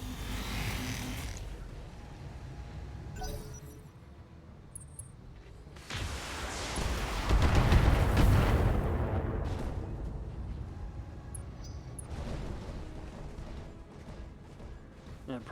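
Heavy weapon fire striking a Warhammer mech in the Battletech video game, a long rumbling barrage that peaks loudly midway and then settles into sustained booming impacts.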